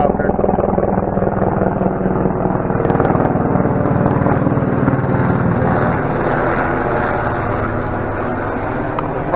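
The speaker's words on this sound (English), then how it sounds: "There's the helicopter." A helicopter during a fire service callout, likely running infrared imaging, gives a loud, steady broadband rotor and engine drone that fills the whole stretch without a break.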